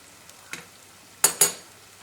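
Green garlic dropped into ghee with fresh turmeric gives two close, sharp sizzling bursts over a faint background hiss, with a smaller crackle just before.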